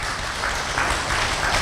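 An audience applauds at a full moon meditation talk, a steady wash of clapping that holds at an even, fairly loud level throughout the short moment.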